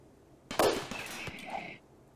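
A sudden burst of explosive, crackling blasts from EMP grenades and rapid gunfire in RimWorld, lasting about a second before fading.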